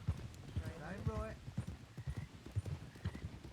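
Horse hooves canter in the Red Dead game world of WildRP in a steady, repeating clip-clop rhythm of thuds, close and clear, under a voice talking throughout.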